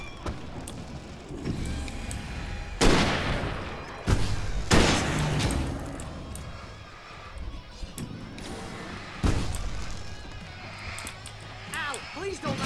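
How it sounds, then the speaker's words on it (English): Fireworks going off in the Alan Wake video game: several loud, sharp bursts and booms spread across the stretch, with rumbling game noise between them and people talking over it. "Fireworks to save me."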